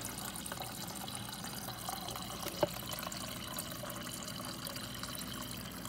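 A steady, quiet stream of water pouring from a Kenmore/Whirlpool side-by-side refrigerator door dispenser into a cup, with a continuous hiss and a small clink partway through.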